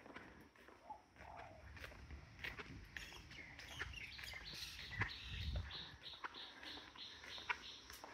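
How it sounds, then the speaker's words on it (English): Small birds chirp and tweet among the foliage of a beach resort in Khao Lak, scattered high calls over a steady outdoor background, with footsteps passing nearby. "the birds, lots of wildlife going on"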